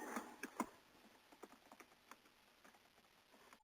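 Quiet typing on a computer keyboard, a scattered run of soft, irregular key clicks at close range, slightly denser at the start, with a louder knock at the very end and no talking.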